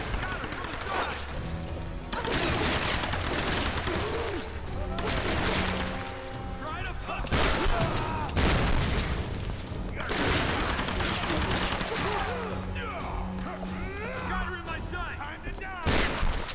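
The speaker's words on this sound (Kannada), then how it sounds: "ಏ ಬಾಂಬ್ ಬಾಂಬ್ ಬಾಂಬ್ ಬಾಂಬ್." Bombs explode and gunfire crackles in the Tomb Raider video game, a rapid chaotic run of bursts, cracks and booms, loud and dense throughout, with a player's excited voice shouting over parts of it.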